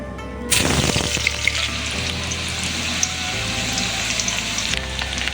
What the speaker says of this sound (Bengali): পেঁয়াজটা খুব সুন্দর লাল লালভাবে ভাজা হয়ে গেছে।